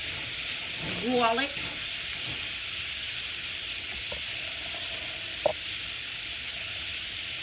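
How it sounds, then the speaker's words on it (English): Walnuts, onions, garlic and oil sizzle steadily in a skillet over medium heat, a constant hiss with a brief stirring scrape early on and a faint clink later. "I have my skillet on medium heat. I'm just gonna mix these walnuts up with the onions and the oil and the garlic."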